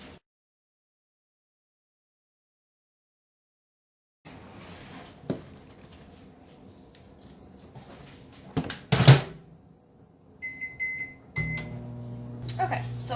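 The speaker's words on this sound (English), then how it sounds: "So I'm just gonna go ahead and put that in my bowl and stick it in the microwave." A kitchen microwave oven heats butter in a bowl. Near silence gives way to soft clunks and a door bang, then a few high electronic beeps and a steady low running hum.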